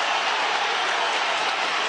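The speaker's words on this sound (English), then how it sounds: "The crowd trying to rally their hero, Micky Ramon, in his title fight through five." A boxing arena crowd roars steadily for fighter Micky Roman during a title bout, a dense, even wash of cheering and applause heard at some distance.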